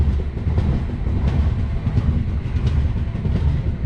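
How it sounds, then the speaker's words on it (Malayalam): The Mandovi Express runs on the Konkan Railway during the monsoon, heard from on board as a continuous low rumble with rhythmic clatter and rattling, with no voices. "കർമാലി റെയിൽവേ സ്റ്റേഷനിൽ നിന്നും വണ്ടി എടുത്തിരിക്കുകയാണ്."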